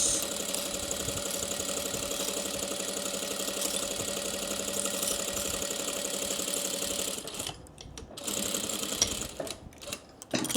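A sewing machine back stitching seams on a pleated fabric bag runs with a steady, fast mechanical whir and clatter for most of the stretch, then breaks into short stop-start bursts near the end.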